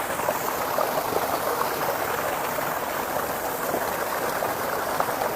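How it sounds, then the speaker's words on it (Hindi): Water gushing hard from a high-pressure tap in a village home, a steady, loud, unbroken rush of splashing water that fills the whole stretch without pause. "तो मैं यहाँ से ना पानी जो है वो भर लेती हूँ।"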